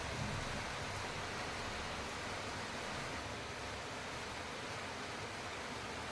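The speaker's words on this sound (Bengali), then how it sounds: "বাইরের বৃষ্টিটাকে আমি ভালো মতো উপভোগ করে নিচ্ছি" Heavy rain falls outside in a steady, dense hiss that holds evenly for the whole stretch, with no voices over it.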